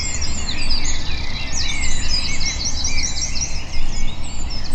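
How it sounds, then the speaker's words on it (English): Dense breeding-season dawn chorus, many birds singing at once in overlapping chirps, trills and whistles, loud and continuous throughout with no voices. "during the bird breeding season, like an hour before dawn, the atmosphere just comes to life with birdsong"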